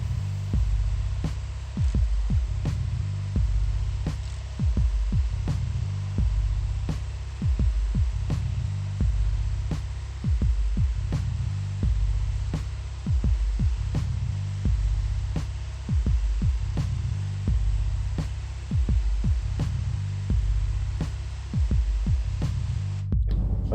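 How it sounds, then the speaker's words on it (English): Vacuum extractor running during spray painting of a Dead Space 2 helmet, a steady low throbbing hum with regular pulsing beats and sharp clicks at even intervals, loud and continuous with no voices. "So I'm going to turn on vacuum"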